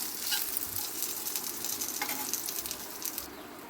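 Jaggery frying lightly in hot oil for a sweet mango pickle, a continuous close sizzle and crackle with occasional stirring.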